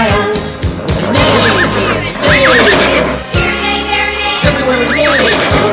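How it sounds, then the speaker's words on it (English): A horse neighs and whinnies several times over a children's farm song with instruments playing and voices singing, the neighs recurring loud and near above the music. "And on his farm he had a horse"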